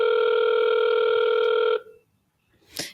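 Outbound phone call ringing on a CRM auto-dialer, one steady loud ringback tone lasting nearly two seconds, then cut off into silence before a brief click-like burst at the end.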